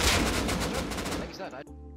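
Dense automatic AK rifle fire in the video game Rust, a rapid burst of loud close shots for over a second, then a sharp cutoff into quieter game sound.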